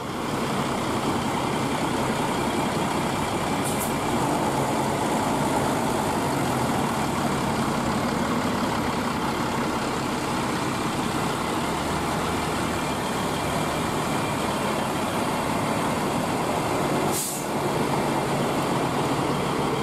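Sindoro Satria Mas bus engine idling before a morning departure, a steady low diesel rumble that holds evenly throughout with faint background activity.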